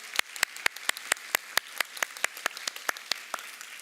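Clapping at a Korean church Sunday worship service in downtown Seattle, welcoming church elders. It comes as a crisp, evenly spaced run of sharp hand claps in a steady rhythm, close and distinct.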